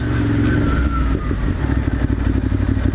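A motorcycle engine roars loud and close, a deep rumbling idle that surges briefly and then settles into a rough, pulsing throb.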